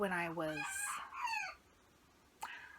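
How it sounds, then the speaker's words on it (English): A young rooster crows close by, a thin, cracking crow broken into two strained phrases, followed by a short squawk after a pause. "have a very small rooster on the other side of this wall"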